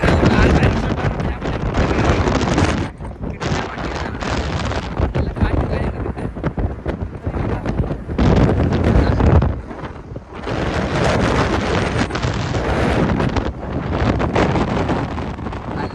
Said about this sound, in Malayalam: കാറ്റുണ്ട് ഗൈസ്, കേൾക്കുന്നൊന്നും അറിയില്ല